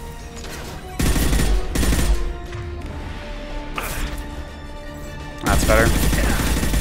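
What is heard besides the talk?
gunfire from the video game Mass Effect 2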